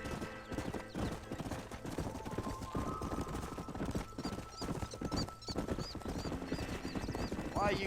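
Horse hooves clip-clopping while riding in Red Dead Redemption, a steady rhythmic trot with a whinny, running under game dialogue and a player speaking.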